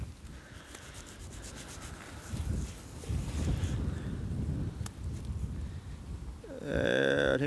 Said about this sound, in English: My face is blown up here in this wind.